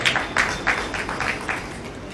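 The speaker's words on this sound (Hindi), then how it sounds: "एक बार जोरदार तालियों के साथ स्वागत करें" Audience clapping to welcome visiting office-bearers at a journalists' welfare council state conference in Khargone, a scattered run of handclaps at moderate distance with no talk over it.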